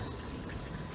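Well water pours steadily into a greenhouse wicking-system reservoir, a continuous near splashing rush of running water with no pauses and no talk.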